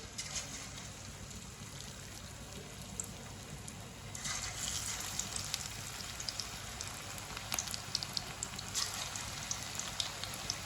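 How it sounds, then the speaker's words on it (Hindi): Pakora batter sizzles in hot oil, a steady crackling hiss like light rain that grows a little louder and busier partway through, with small pops scattered on top. "पकोड़े को 2 मिनट के लिए फ्राई होने देते हैं"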